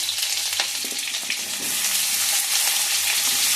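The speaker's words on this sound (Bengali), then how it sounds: "এবার আমি দিচ্ছি, তেল গরম হয়ে গেছে, গ্রেট করা আদা, গ্রেট করা রসুন" Grated ginger and garlic hit hot oil, giving a steady, dense sizzle close by that runs throughout, with a few faint stirring clicks near the start and no voices.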